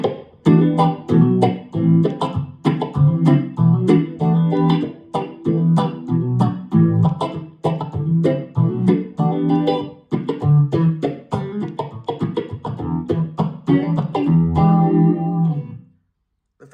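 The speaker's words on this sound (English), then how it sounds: "phaser actually sounds pretty good" An electric guitar run through a Tone Master Pro strums rhythmic chords through a sweeping phaser effect, bright and continuous, then stops abruptly near the end; no talking.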